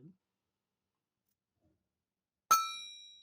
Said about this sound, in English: Dinner bell. Jingle bell.